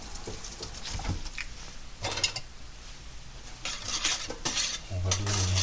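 A couscous mixture stirred in a pot with a spoon: intermittent scraping and clinking strokes against the metal, some bursts louder than others, plus a faint sizzle underneath and no speech.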